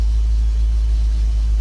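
A V8 engine fitted in a D40 Nissan Navara idles after an engine replacement, a deep, steady low rumble heard close and loud with no other sounds.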